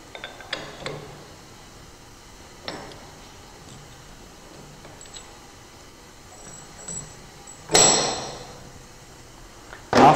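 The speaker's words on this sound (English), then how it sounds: "So first of all, I have to open the coupling." The coupling of a Pharmapaktor compactor is opened by hand, giving sparse metallic clicks, taps and a sharp clank, then a louder scraping clatter near the end, close and fairly quiet overall.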